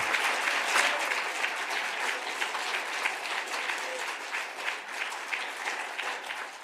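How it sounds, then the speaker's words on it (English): Audience at a city planning and zoning commission public hearing giving a round of applause, dense clapping from many people in a meeting room, steady and moderately loud throughout. "I want to give all of you a huge round of applause."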